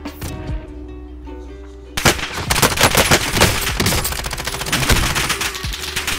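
Video game gunfire in Warzone: after a quieter start, loud sustained automatic fire breaks out as dense rapid bursts of shots layered with echoing battle noise.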